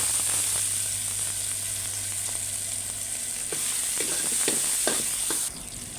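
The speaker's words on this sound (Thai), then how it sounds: "ตอนนี้ก็ใส่น้ำมันเล็กน้อยนะทุกคน จะผัดพริกแกงให้หอมนะ" Thai curry paste sizzles steadily in a little hot oil, a loud, continuous frying hiss with occasional clicks of stirring near the end.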